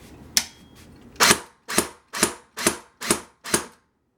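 An airsoft SVU OTS-03 rifle running an 11.1 battery fires semi-auto, giving seven sharp, evenly spaced close cracks with brief pauses between them and one fainter click at the start.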